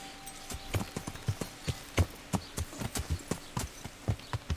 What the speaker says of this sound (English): Come here, my trusty steed.